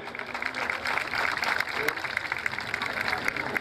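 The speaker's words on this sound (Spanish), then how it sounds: "Le regalamos el aplauso, gringo, le regalamos el aplauso. Vamos a levantarlo con las palmas" An audience at a folk music and dance festival broadcast claps and applauds steadily, a dense sustained patter, while a voice talks over it.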